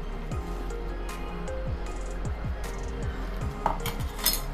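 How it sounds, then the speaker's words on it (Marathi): Spoon stirring spinach puree into a gravy in a metal pan, repeated rhythmic scraping and clinking strokes against the pan, close and moderately loud over a low steady hum. "व्यवस्थित आपल्याला ही पालकची प्युरी यामध्ये एकजीव करून घ्यायची आहे"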